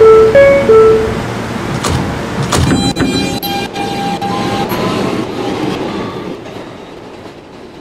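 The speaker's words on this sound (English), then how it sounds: "This is a Collin Park bound J Express train." A J Express subway train on the Putnam Blvd line clatters along, with loud wheel clicks and a brief squeal early on, then a steady rumble that fades toward the end.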